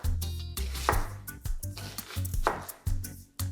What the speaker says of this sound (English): really roughly chop this